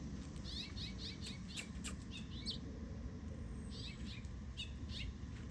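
A mother bird gives short, repeated high chirps near her nest of baby birds, faint and somewhat distant over a low steady background rumble, in scattered bursts.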